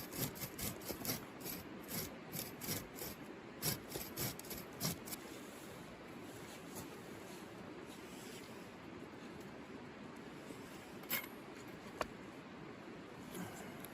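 Knife carving a pin notch into a wooden bushcraft buck saw arm outdoors, a steady scraping and rasping rub that starts with a string of short rhythmic strokes and then settles into continuous close scraping, no voice.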